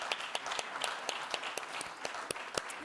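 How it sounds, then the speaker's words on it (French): Quiet audience applause at an urban psychoanalysis agency gathering, a modest scatter of hands clapping in a steady patter, faint and somewhat distant, short-lived. "Oui, on peut l'applaudir."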